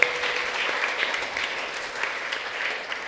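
A church congregation at a novena Mass at St. Ignatius shrine in Sathampatti claps in welcome, a steady dense wash of applause filling the room at moderate loudness with no talk over it.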